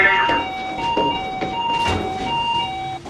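A shipboard fire alarm sounds as a steady, repeating electronic tone running through the whole stretch, with background noise and voices speaking over it.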